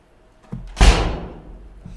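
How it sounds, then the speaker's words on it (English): Door slamming loudly nearby, a sharp heavy bang preceded by a softer knock, with the boom ringing out and fading over about a second. "That's a loud door."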